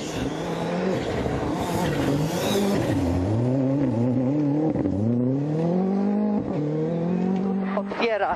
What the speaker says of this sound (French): Le voilà, Jaroslav Koltun à bord de la Ford Fiesta R5.